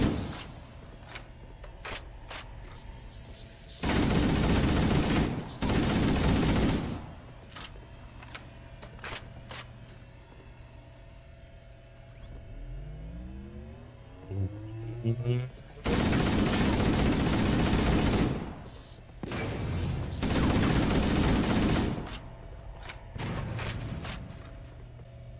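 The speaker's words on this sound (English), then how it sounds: "The assault rifle is much more effective than the shotgun." Assault rifle fire in the Halo first-person shooter, with several loud sustained bursts of automatic shots and shorter gaps between, over game music and ambience; a voice speaks in between the volleys.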